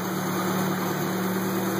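A 1955 Citroen Traction Avant engine with twin carburettors idles steadily while its carburettor is adjusted, a close, even low hum with a constant tone and no voices.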